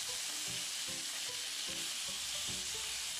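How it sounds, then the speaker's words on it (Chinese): Shrimp stir-frying in a hot wok, a steady loud sizzle with rhythmic stirring and tossing strokes roughly every half second, close up with no talk. "加入1勺料酒，继续翻炒"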